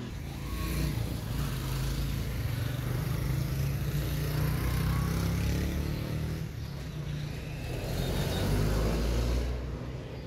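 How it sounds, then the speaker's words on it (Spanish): Motorcycles, cars and pickup trucks pass by on a road at Parque la Democracia, Joyabaj, Quiché, a continuous rumble of engines with swelling and fading traffic noise, no talking. "ahí van las motos, carros, camionetas que van viajando"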